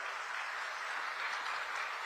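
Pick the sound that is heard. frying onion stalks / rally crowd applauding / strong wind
rally crowd applauding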